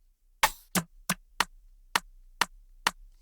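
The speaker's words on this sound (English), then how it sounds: "let's look for a different rim shot." Rim shot percussion samples auditioned in FL Studio, seven sharp dry clicks played one after another at uneven spacing, clean and isolated.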